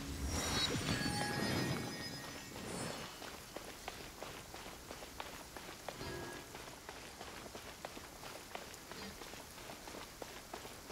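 Steady rain pattering on surfaces in the Genshin Impact game, heaviest and loudest at the start, then settling into a continuous hiss with scattered distinct droplet ticks, with no voices.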